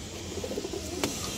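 Tournament pigeons coo nearby in a short run of soft, low, throaty notes, followed by a brief sharp click, with no speech.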